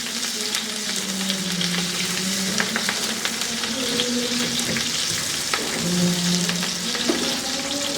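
Onions sizzle loudly in very hot oil on high heat while being stirred, a continuous crackling fry with occasional scraping of the spoon and no talking.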